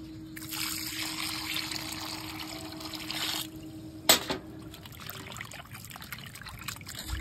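Water pours and trickles steadily over freshly cut Bengali lote fish as it is washed, close and continuous, with one sharp clatter partway through.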